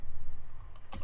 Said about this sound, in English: I'll go to the command prompt and type ping